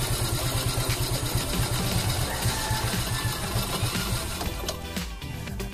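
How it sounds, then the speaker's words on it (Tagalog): A Kawasaki Fury 125 motorcycle engine idles with a fast, even putter up close, then sputters and dies as the carburetor mixture screw is turned in. "Pag i-reset natin to, kailangan natin i-clockwise pasara hanggang humigpit siya. Ito nito, hanggang mamatay yung makina."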